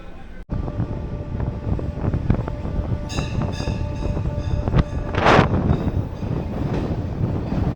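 A Kolkata local train from Howrah pulls out on its way toward Mandarmani, a steady rumbling roar with rattling wagons and a few tonal squeals and hiss bursts, heard up close throughout with no talk.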